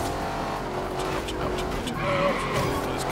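Tires squealing as a hypercar skids and slides in the racing game Forza Horizon 2, a continuous loud engine roar with a rising screech near the end while a player talks.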